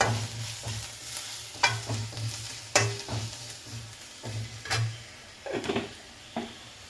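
Mushroom thoran sautéing in a pan with turmeric: a soft steady sizzle runs underneath while a spoon scrapes and stirs in repeated strokes, with several sharper clacks against the pan.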